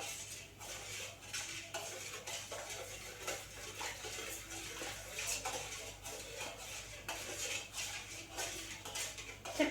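A metal spoon clinks and scrapes continuously around a pan as sugar syrup for jalebi is stirred until the sugar dissolves, giving a quiet, busy, close rattle with no talk.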